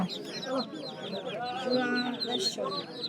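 A dense chorus of high, shrill peeping from many Chinese ducklings at a poultry market in Kamrangirchar, continuous and close, with people talking over it.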